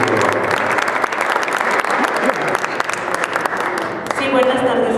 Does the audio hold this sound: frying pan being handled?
no